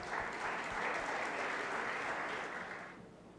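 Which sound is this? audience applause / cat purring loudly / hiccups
audience applause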